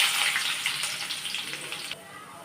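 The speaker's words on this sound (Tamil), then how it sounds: "வெங்காயம் போட்டு நல்லா வதக்கி விட்டுக்கோங்க" Onions fried in oil with bay leaf, cinnamon and cloves give a dense, close hiss of sizzling that stays loud and even, then drops quieter near the end, with no talking over it.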